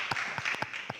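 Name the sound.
audience applause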